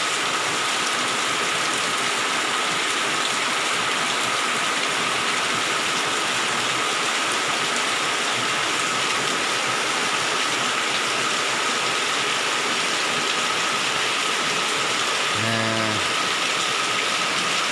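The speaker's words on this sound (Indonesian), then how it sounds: "Dan sekarang ini malam Jumat, hujannya sangat deras sekali." Heavy rain pours at night outside a village house, a dense continuous hiss that holds steady throughout, with a short burst of low rhythmic pulses near the end.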